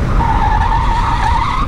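Motorcycle tyres skidding under hard braking, a loud continuous squeal held for nearly two seconds over low rumbling road noise, close by.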